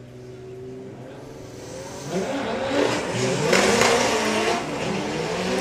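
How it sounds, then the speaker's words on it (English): A four-wheel-drive Audi launches on a drag strip at Santa Pod Raceway, its engine note swelling from a steady idle into a loud, roaring full-throttle run that stays close and intense to the end. "He's taking on Chris Waterhouse with the 4-wheel drive Audi."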